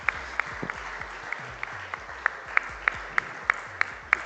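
Sparse, thin applause at a Rotary Institute event in Kochi, with individual claps ringing out clearly and irregularly over a low hall murmur.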